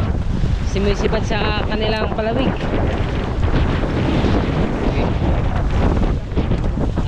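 Large waves from a passing ship rolling against a boat at sea, a continuous rough wash under heavy wind buffeting on the microphone, with a person speaking briefly over it.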